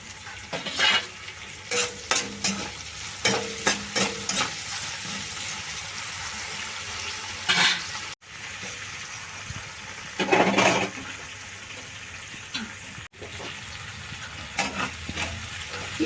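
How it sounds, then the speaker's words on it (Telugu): Salted onion pieces sauté in a pan for a potato curry, a steady sizzle broken by repeated bursts of spoon scraping and stirring, close and fairly loud with no voices. "ఈ ఉల్లిపాయ ముక్కలు తొందరగా మగ్గుతాయి"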